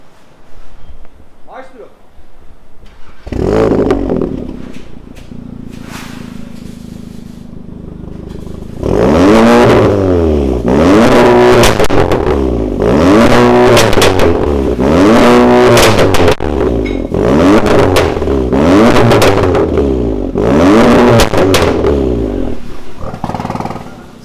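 Audi S3 with a 2.0 TFSI engine and remote-controlled exhaust, revved repeatedly in loud, rhythmic bursts that rise and fall, starting quieter with some talk before the exhaust opens up fully.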